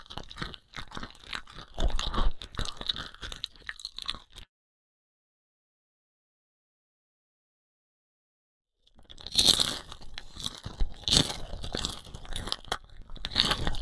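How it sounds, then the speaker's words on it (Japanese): A monster in a Japanese free horror game chews flesh and bones with loud, wet crunching and tearing bites, an active burst, several seconds of silence, then another run of crunching. "怪物が肉を、骨を噛む音が聞こえる。"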